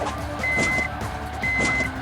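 A high electronic beep repeating at a steady pace over a low rumbling engine-like drone, a continuous warning beep in the Hill Climb Racing 2 video game.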